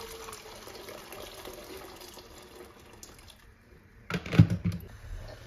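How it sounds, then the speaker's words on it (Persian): Boiled water is poured into a cooking pot. A faint, steady running-water wash gives way near the end to a louder, splashing gush, close by with no talking. "ما الان اومدیم یه آب رو میرزیم داخل قابلمه، آب جوش شده."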